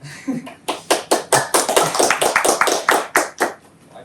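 Audience clapping at a tech talk in a steady, even rhythm, about a dozen distinct claps close by, fading slightly toward the end.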